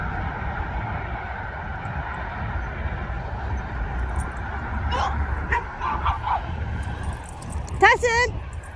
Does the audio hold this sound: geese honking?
no